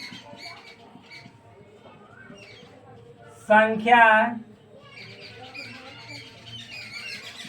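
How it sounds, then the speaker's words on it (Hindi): A bird chirps loudly in one rapid burst of shrill, squeaky calls lasting under a second, close by, standing out over a quiet room where someone speaks. "यहाँ पे चिड़िया इतना ज़्यादा चहक रही है कि मत पूछिए।"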